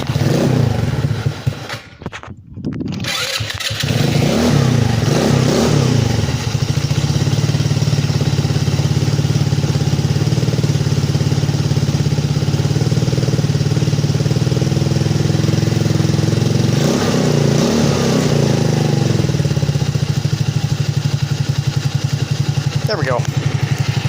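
A custom Maddog 150cc scooter engine runs steadily and loudly up close for most of the stretch after a brief sputtering start, with a constant droning hum and some clatter, and someone talks over it.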